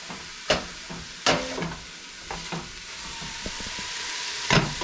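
Ground beef, still partly frozen, and chopped onion browning in a pan, a steady close sizzle broken by several sharp scraping strokes as the meat is broken up.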